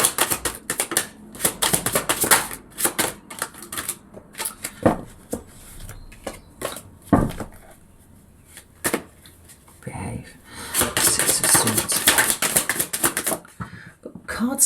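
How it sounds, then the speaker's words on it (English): Tarot cards being shuffled at a reading, giving repeated dense papery riffles and soft slaps with short pauses, some bursts louder than others, with no talk over them. "Cards tumbling out to the right,"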